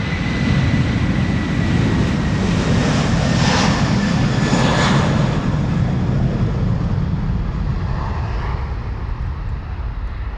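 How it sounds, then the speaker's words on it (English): A KLM Airbus A330-200, 19 years old, rolls past at Amsterdam Schiphol Airport with a loud, steady engine roar and some wind buffeting, sustained close by for about ten seconds with no talk. "And KLM flight 641 to New York JFK is pulling up. It's an A330-200."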